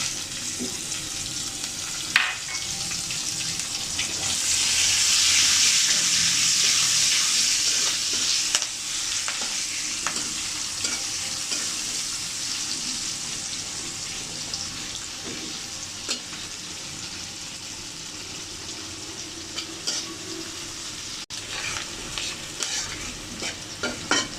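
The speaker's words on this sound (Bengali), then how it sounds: "এখানে 4টে কাঁচামরিচ, 1টি পেঁয়াজ কেটে নিয়েছি, সেটা দিয়ে দেব।" Sliced onion and four green chillies hiss into hot oil in a pan after fish has been fried, a loud sizzle that swells then settles into steady frying with scattered stirring scrapes and clinks.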